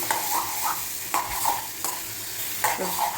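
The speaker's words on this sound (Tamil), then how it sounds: "இதையும் போட்டு லைட்டாக மிக்ஸ் பண்ணிவிட்டு" Tomato chutney with coriander leaves is stirred in a pan on the stove, a steady sizzle broken by a few quick scraping strokes of the spoon, close and without talk.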